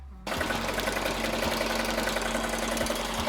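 An embroidery machine stitching a volleyball outline design on a hoodie, with a fast steady mechanical whirring rhythm and a low hum, running close and constant after a sudden start.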